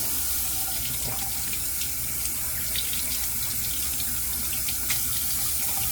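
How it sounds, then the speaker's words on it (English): A bathroom tap runs steadily into a sink to wet a shaving brush, a constant close splashing rush with small irregular drips and splatters. "So let's get the brush wet."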